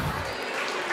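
Applause and cheering from an audience at a Jain religious discourse on the Parshv Katha, a dense, steady wash of clapping and crowd noise.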